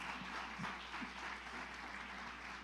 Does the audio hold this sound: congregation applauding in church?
yes